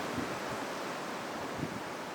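Wind buffets an outdoor microphone, giving a continuous broadband rumble with soft low thumps of gusts and no voice over it.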